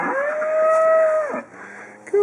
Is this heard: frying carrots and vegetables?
no